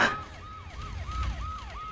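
Wailing emergency siren, close and loud, rising and falling in quick regular cycles of about a third of a second each, with no voices over it.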